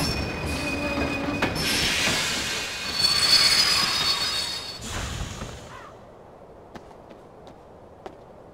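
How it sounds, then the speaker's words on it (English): A train pulls into a station in the video game Kingdom Hearts, with squealing metal wheels and rumbling rail noise that swell, then cut off, leaving quiet with a few soft clicks. "The train will be arriving shortly."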